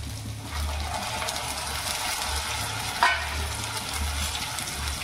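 Tomatoes sizzle and fry in a pan with capsicum and potato over raised heat, a steady close crackle with a brief clatter of stirring near the middle.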